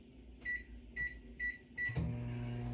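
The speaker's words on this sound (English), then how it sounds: "So I'm going to take that and melt it in the microwave" A microwave oven hums steadily while melting soap base in short bursts, with four evenly spaced beeps followed by a door clunk and a low running drone, close and moderately quiet.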